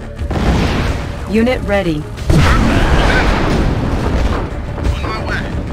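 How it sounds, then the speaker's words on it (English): Booming EMP airstrike explosions rumble through a battle in the Red Alert 20XX real-time strategy game, a sharp blast landing midway and sustained low thunder continuing beneath a synthetic announcer voice and unit chatter. "EMP airstrike initiated"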